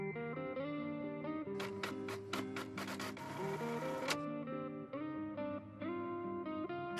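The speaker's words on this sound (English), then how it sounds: "Sending to printer." A printer in a video game prints a document, a long run of tonal, stepping mechanical chirps and whirs with a dense noisy burst in the middle, heard alone and fairly quiet.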